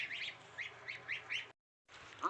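Village hens and chicks give a series of close, nasal clucking calls in quick bursts, broken by a short silence before another call, with no talking.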